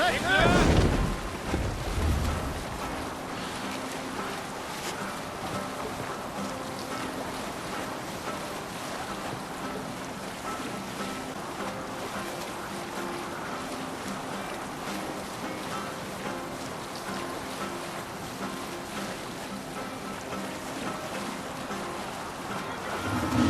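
A sailing ship in the video game Assassin's Creed Valhalla moves across open sea, with constant wind and waves washing around the hull and a faint murmur of voices underneath.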